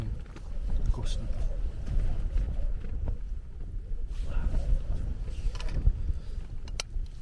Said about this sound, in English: Yeah, the wind gusting.